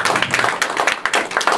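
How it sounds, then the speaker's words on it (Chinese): Audience at a bamboo flute concert press conference applauding, a brief burst of close, dense clapping from a modest crowd. "请大家再一次给予掌声给冯会长"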